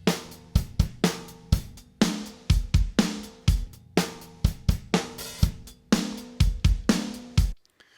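Country rock drum kit playing a steady groove, alternating between raw and mixed versions: punchy kick and snare hits in a regular rhythm with cymbals washing over, loud and close, ending abruptly.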